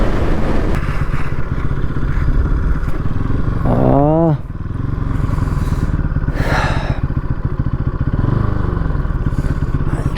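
An NS 200 motorcycle runs near top speed with its engine held at high RPM against the limiter, giving a loud, steady drone. A sharp rising-and-falling rev flutter sounds midway, then the steady high-pitched hum returns.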